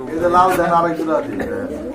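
Large pigeons at a sale coo in soft, rolling murmurs close by, partly under people chatting.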